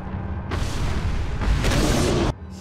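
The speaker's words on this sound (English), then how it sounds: "Okay, flashbangs do work." Flashbang grenade going off in Resident Evil 4, a loud, dense blast of noise that swells for about two seconds and then cuts off abruptly, with no voices.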